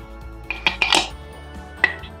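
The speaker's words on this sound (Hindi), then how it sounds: "ये हमने प्रेशर कुकर को बंद कर दिया।" A pressure cooker lid being fitted and closed in a home kitchen while cooking aloo gosht, giving a few sharp metallic clacks and clinks close by, with a final distinct clank near the end and no talking.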